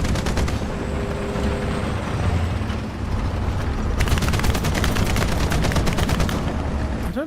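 Gunfire in the War Thunder game, with sustained rapid bursts of automatic fire rattling over a dense rumbling battle background, heavier volleys in the second half, loud and continuous.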